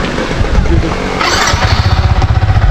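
A Yamaha MT-15 motorcycle starts with a brief cranking burst, then settles into a loud, close, pulsing idle.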